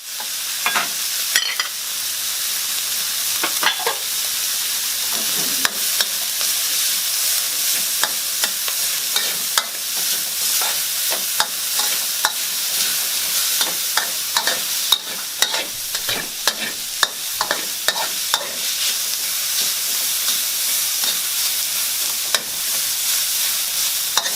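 Garlic stir-fried in hot oil in a wok for a steamed pomfret with pickled plum dish, a steady bright sizzle broken by frequent scraping strokes of the spatula, close and continuous with no voices.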